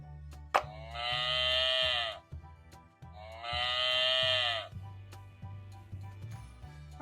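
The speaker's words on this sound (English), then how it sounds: "How does a cow sound?" A toy farm-animal puzzle plays a recorded cow moo twice, each long harmonic low call lasting over a second, near and clear, with soft clicks of puzzle pieces between and after.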